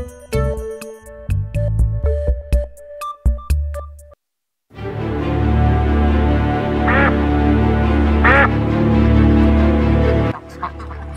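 A cartoon duck quacks in a Bangla animated fox-and-tiger story, loud repeated calls that come first in short choppy bursts and then as a dense run after a brief pause.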